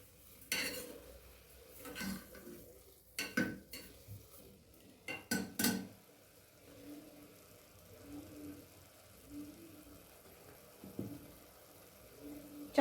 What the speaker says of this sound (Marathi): ही छान हलवून घ्यायचे आपल्याला.